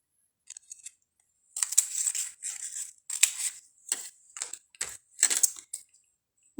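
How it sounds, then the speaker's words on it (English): Scissors cut through card-making paper in a series of crisp, close snips, several quick cuts in short bursts separated by brief pauses. "And I'm just going to cut this straight off."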